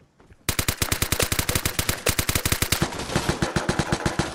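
Loud, close AK assault rifle gunfire in the video game Vigor: after a brief quiet lead-in, rapid automatic shots crack out in steady bursts, each report sharp and distinct, continuing without pause to the end.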